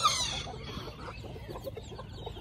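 A hen clucks softly among her chicks, whose thin high peeps scatter over low, close murmuring clucks in a quiet farmyard setting, with no talking.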